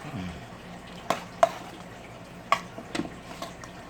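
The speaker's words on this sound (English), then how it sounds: "Now I am going to mix this up a little bit before I put the mustard and the mayonnaise in it." Potato salad being stirred in a bowl before mustard and mayonnaise go in: a few sharp scraping clinks of a utensil against the bowl, close and fairly quiet, spaced irregularly over a soft background.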